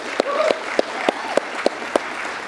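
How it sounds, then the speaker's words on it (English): A conference audience at a welcome address gives a short round of applause for the event's sponsors. A dense crowd clapping is punctuated by one nearby clapper striking in a steady, regular beat. "So quick little round of applause for our sponsors to just say thank you to them."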